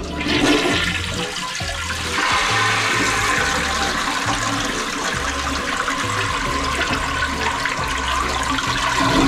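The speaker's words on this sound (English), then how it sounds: "And I guess we'll flush it." A repaired toilet flushing close by, a loud continuous rush and swirl of water that runs throughout without speech.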